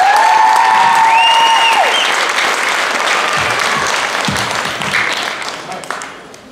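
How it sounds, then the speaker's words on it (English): Audience applause for the eighth grade at a Lincoln Middle/High School spring concert, loud sustained clapping that slowly thins and fades, with a held musical note and a voice at the start. "one more round of applause for the eighth grade who did such a nice job"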